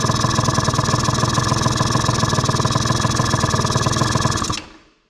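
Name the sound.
Arctic Cat 90 youth ATV two-stroke engine idling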